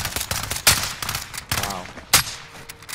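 Rapid bursts of single-fire gunshots in the online shooter Warzone Resurgence, sharp cracks close together with short gaps between them.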